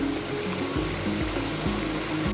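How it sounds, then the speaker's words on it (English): Steady rushing and splashing of a small backyard pond waterfall, continuous and close, with a low tonal hum running underneath. "The sound of the waterfalls are very soothing."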